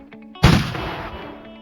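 A single booming cannon blast hits suddenly and decays over about a second, loud and close, a sound effect meant as a three-gun salute.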